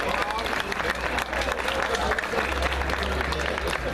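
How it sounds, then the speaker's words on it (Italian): Audience applause for a ranked finalist at a talent show finale in Mira, Venice: steady, dense clapping from a sizeable crowd sustained for the whole stretch, with faint chatter mixed in. "Pubblico, l'applauso."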